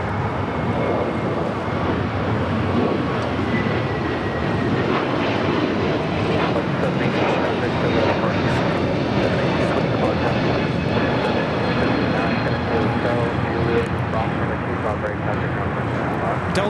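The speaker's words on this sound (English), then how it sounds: "Delta Airlines Flight 718 taking off to Orlando with Brian on board" A one-year-old Delta Airlines Airbus A321neo takes off from LAX, a steady broadband engine roar that holds loud and unbroken throughout, with faint talk in the background.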